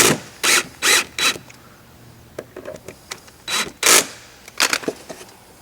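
Screws driven back into a DynaCon belt path assembly with a tool bit, heard as a series of short, close, whirring bursts with ratcheting grinds, several in quick succession separated by brief pauses.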